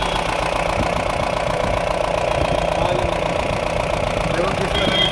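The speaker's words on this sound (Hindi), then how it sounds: "देखो किस तरह हमारा इंजन मिसिंग कर रहा है।" Mahindra Bolero CNG pickup engine idling with a misfire, a steady close rumble with an uneven, knocking beat throughout and no talk over it.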